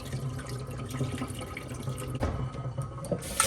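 Water drains from washed peas, trickling and splashing steadily close by with a continuous wet rushing, no voices present.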